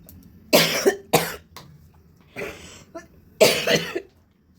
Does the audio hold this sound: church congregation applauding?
no